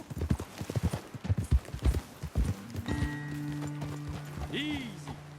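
Horse hooves clip-clop on the ground in a Western video game, a brisk close rhythm that slows to a stop, followed by a horse's snort and whinny with sustained musical tones underneath.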